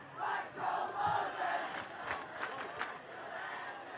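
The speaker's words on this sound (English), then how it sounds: "And the crowd getting into it too." High school football crowd at a Wickliffe Blue Devils versus Brookside Cardinals game, a broad roar of cheering and shouting voices swelling and ebbing steadily, with bursts of louder yelling near the middle.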